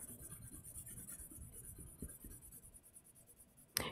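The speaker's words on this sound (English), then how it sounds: "we're going to rub the back of our copy paper there with pencil" Pencil graphite rubbed back and forth on the back of copy paper makes a faint, close, rhythmic scratching, ending in a sharp tap.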